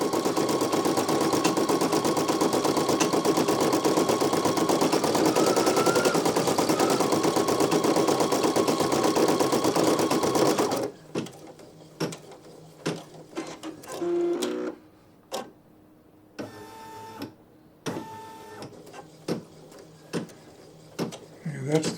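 A Brother PE900 embroidery machine stitches a design with a rapid, steady mechanical chatter for about eleven seconds, then it stops and leaves scattered clicks and thumps, with a person talking faintly.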